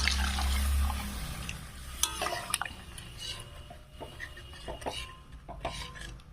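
Water is poured into a pan of banana-flower curry with egg: a brief low rush of liquid at the start, followed by clattering metal utensil knocks and faint drips and stirring in a quiet kitchen.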